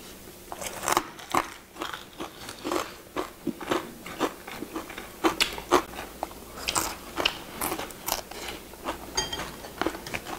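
Crunchy deep-fried sea bream being bitten and chewed close up, a dense series of sharp, crackling crunches in irregular rhythm with no talk.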